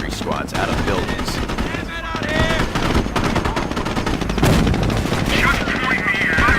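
In a WWII game set on the Normandy beaches, dense rifle and machine-gun fire rattles continuously alongside booming impacts, with voices calling out over the din.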